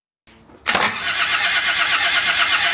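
A freshly reassembled Land Rover engine, with its cover set on loosely, cranks briefly, then bursts into a loud, steady, rough roar heard close, with no talk.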